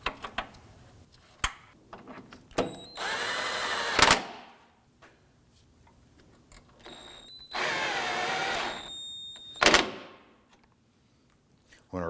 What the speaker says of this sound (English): Gonna gently snug this.